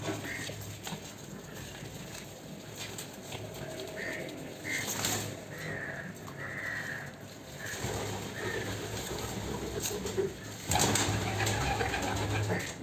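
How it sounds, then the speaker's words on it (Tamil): Grizzle pigeons let loose in a loft make soft cooing and shuffling sounds over a steady background hum, with occasional brief flutters and patters of wings, fairly close and moderately quiet. "இப்போதைக்கு கிரிஜல் புறா மட்டும் விட்ருக்கேன்"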